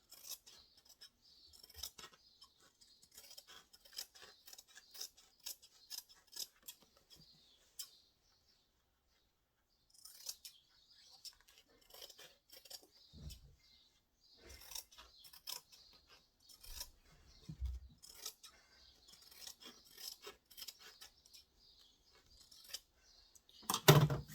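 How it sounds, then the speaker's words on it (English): Scissors snip through excess fabric while a diaper bag is trimmed to its pattern, giving repeated quick cuts in bursts with short pauses between them. The sound is close and fairly quiet, with no talking. "all I do is I just trim off any excess"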